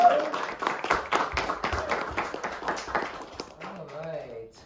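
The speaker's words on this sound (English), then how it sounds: "Give the biggest warm applause for Luc." Scattered clapping from a small audience at a religious lecture, fairly close and moderate, thinning and fading out after about three seconds as a voice begins speaking.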